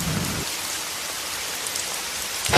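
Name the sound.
rain falling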